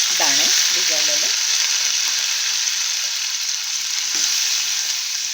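Soaked peanuts hit hot oil tempered with asafoetida, turmeric, green chilli and fenugreek seeds for Maharashtrian panchamrut chutney, producing a loud, steady sizzle and hiss, with a brief voice murmuring at the start.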